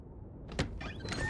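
A door opening in The Long Dark, a quiet close creak and slide lasting about a second with a faint knock partway through, alone against a low background.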